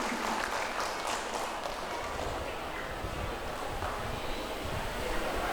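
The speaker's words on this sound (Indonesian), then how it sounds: "tepuk tangan sekali lagi." Applause from an audience at the opening ceremony of a community health-check charity event in Bandung, a dense, steady patter of clapping that fills the whole stretch at moderate volume.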